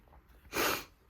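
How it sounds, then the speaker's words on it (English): One quick, breathy sniffle from a person recovering from illness, drawn in through the nose, close and moderately loud against a quiet background. "Sorry for my sniffles."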